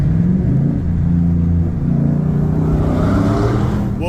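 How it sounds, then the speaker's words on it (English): A race truck's engine rumbles loudly and close by, its exhaust note holding a deep, throaty drone that rises as the engine revs up. "see if we can give you a little bit of a fun time with the exhaust note"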